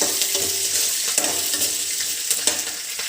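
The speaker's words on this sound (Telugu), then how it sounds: "సిమ్లో పెట్టుకొని వేసుకోవాలి, ఎక్కువ ఆయిల్లో పెట్టకూడదు, ఎందుకంటే పల్లీలు మాడిపోతే బాగోదు." Peanuts frying in a little oil over a low flame for a coriander chutney, with a steady close crackling sizzle, a few light stirring scrapes and soft clicks.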